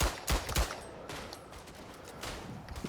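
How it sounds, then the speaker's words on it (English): Rifle gunfire in the First World War shooter Verdun: several sharp shots, two close together at the start and a few more spaced irregularly after, with scattered battlefield noise in between. "Whoa, somebody's firing."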